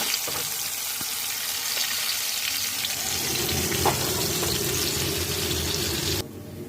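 Tomato paste hitting hot mixed white oil and ghee tempered with cumin seeds gives a steady, close sizzle and hiss that swells partway through, then cuts off abruptly near the end.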